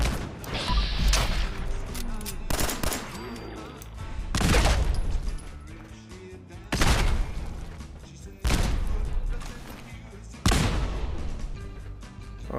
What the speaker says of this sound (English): it must be a Gauss rifle